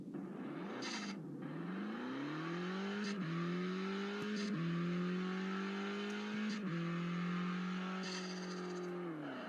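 A Lotus race car engine in the video game Assoluto Racing, with boost, whines and revs continuously, pitch climbing through several gear shifts with brief dips between them, loud and alone.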